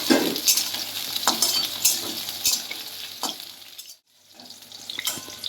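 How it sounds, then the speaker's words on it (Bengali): Pointed gourd (potol) pieces fry in a pan for a mixed vegetable dish, giving a steady close sizzle broken by several scraping stirs, with a brief near-silent gap before the frying noise returns. "এটা এখন আমি পটল ভেজে নিচ্ছি"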